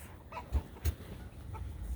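Chickens clucking in a farm pen, with a couple of short, close clucks standing out over steady outdoor background noise, no talking.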